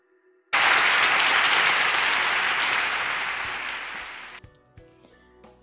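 Applause from a crowd in the Ephemeral visual novel game bursts in suddenly, a dense wash of clapping that holds steady for about four seconds, then thins and stops, leaving quiet game music.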